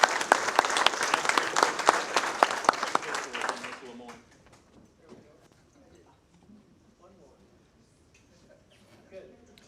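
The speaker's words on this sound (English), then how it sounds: "Give yourselves a round of applause for your generous donation." Dense audience applause at a Kiwanis club meeting fills the first four seconds. It then fades into scattered room noise and faint murmuring.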